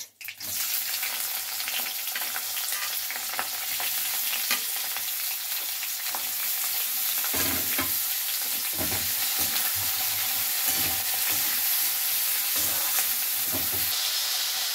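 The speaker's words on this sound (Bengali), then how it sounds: "পেঁয়াজটা ভাজার সময় আমি অল্প নুন দিয়ে দিলাম" Chopped onion hitting hot oil already fried with dried chillies and bay leaf, a loud, steady sizzle with crackling spatter and occasional stirring, close and continuous with no talk.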